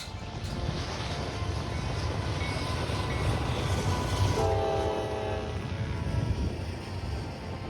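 A freight train rumbles past in Illinois with steady low-frequency noise throughout, and a horn blast sounds midway, holding for a couple of seconds before the rumble continues.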